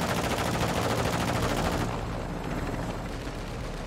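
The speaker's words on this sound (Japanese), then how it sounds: "めっちゃ撃ってきた。" Dense enemy gunfire in Call of Duty DMZ, a heavy sustained burst of rapid shots that cuts off partway, leaving a duller rumble of distant fire and ambience.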